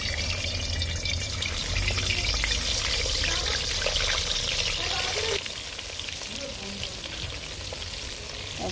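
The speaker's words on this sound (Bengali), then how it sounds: "ডিমগুলো আমি ভেজে নেব।" Country-chicken eggs fry in hot oil in a kadai, a loud, continuous sizzle and crackle that dips slightly partway through, with no voices.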